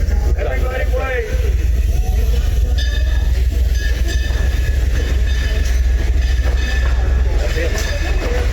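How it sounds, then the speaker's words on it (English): An amusement park train at Silver Dollar City rolls past nearby, a steady loud rumble with faint clacking and a thin whine, while people talk over it throughout. "He's driving that train."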